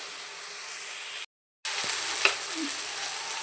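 Chopped tomatoes with salt frying in a pan for egg Maggi noodles, a steady close hiss and sizzle broken by a short silent gap, then a few faint stirring taps.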